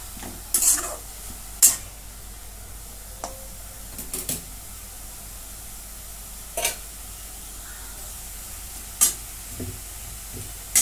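Finely grated pumpkin being sautéed in a pan, with scattered scraping clicks of a spoon and a faint, steady background hiss, the strokes coming irregularly at moderate volume with no talking.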